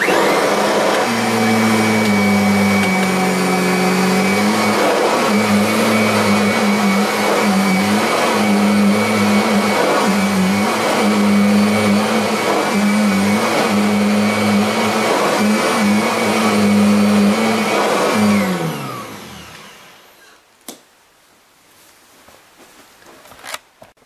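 A Kirby G4 upright vacuum cleaner runs loud and steady while picking up salt spread on a floor, its motor whine holding a constant pitch for about eighteen seconds before spinning down to near silence, with a few clicks after.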